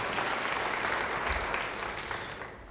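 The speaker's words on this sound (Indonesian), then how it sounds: "Yang setuju beri tepuk tangan bagi dia." A church congregation breaks into sustained applause during a sermon, a dense even roar of many hands clapping that slowly fades toward the end.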